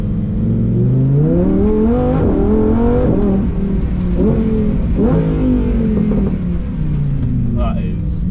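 A supercar engine revs and shifts through paddle-shift gears while driving, sweeping rising and falling tones close up and loud throughout, with a voice talking over it.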